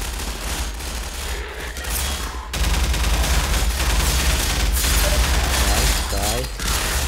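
Gunfire in the Half-Life 2 video game, with dense, continuous bursts of shots and mechanical clatter that loudly fill the whole stretch.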